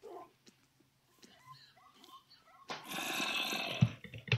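In Minecraft, a tamed dog lets out soft whining yelps after being shot, followed by a louder burst of game noise as a person talks over it.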